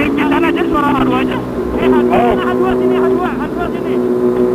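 A Kawasaki H2 motorcycle engine roars close by on a night ride, revving up and down in rising and falling sweeps, loud and continuous, with other bikes and voices mixed in.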